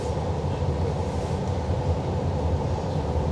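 A passenger train in Ireland rumbles along with a steady low drone and rattling hum, continuous and fairly loud, heard from on board with no talking.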